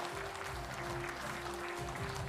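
A forum audience applauds its moderators and speakers at the close of the event, a steady wash of clapping that runs through the whole stretch at moderate level with a low hum underneath.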